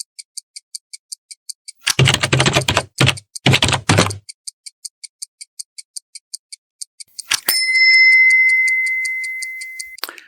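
Computer keyboard shortcuts tapped while editing in Kdenlive, heard as two quick bursts of clicking keystrokes alongside a steady ticking, followed by a sharp click and a sustained electronic tone.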